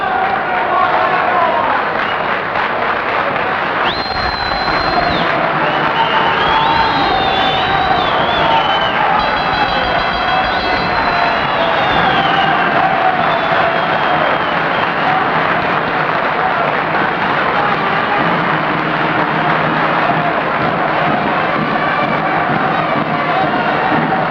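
A large crowd applauds and cheers at a boxing match at Eastern Parkway in Brooklyn, sustained clapping and roaring voices with whistles rising over the din.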